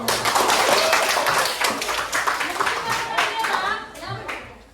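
A classroom of students clapping their hands together, brisk, close and loud at first, then thinning out, with children's voices mixed in.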